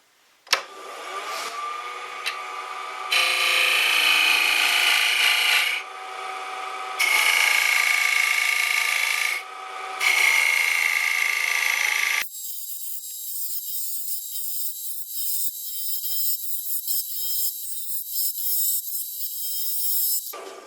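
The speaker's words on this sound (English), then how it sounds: "just using my bowl gouge here" A bowl gouge roughing a hollow wooden egg on a wood lathe, cutting in repeated loud scraping, rasping passes of a few seconds each, separated by quieter stretches of lathe hum, ending in a long softer spinning hiss.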